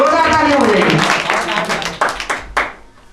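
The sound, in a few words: audience applause for a correct quiz answer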